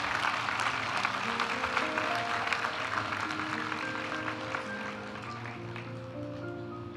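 Applause from the audience for master's graduates at a graduation ceremony, a steady wash of clapping with a faint tonal music bed, moderately distant and gradually easing off.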